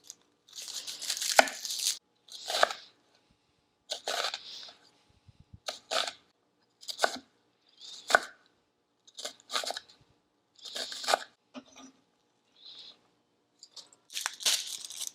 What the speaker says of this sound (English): We're also going to mince up an onion.